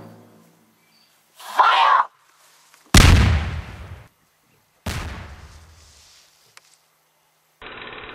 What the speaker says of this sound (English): Wunder Tank, are you ready to fire?